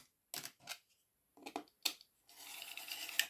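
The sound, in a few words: cutting paper along a ruler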